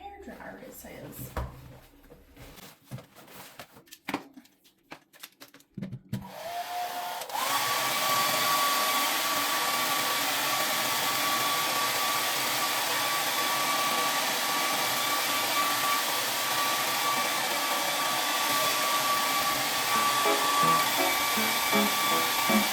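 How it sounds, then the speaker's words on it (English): After some rummaging and clattering, a hair dryer switches on and blows steadily with a loud, even whooshing whine that continues unbroken for the rest of the clip. "I think I got a hairdryer in here somewhere."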